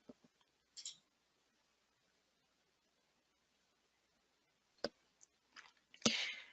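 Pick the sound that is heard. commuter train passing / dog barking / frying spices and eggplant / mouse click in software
mouse click in software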